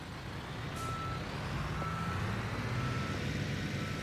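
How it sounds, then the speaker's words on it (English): A truck reversing in Construction Simulator, with a steady rumbling engine and a repeating tonal backup beep sounding at regular intervals, moderately loud and close, with no voices. "We'll close our truck up this way and then reverse right back to the beginning of the block"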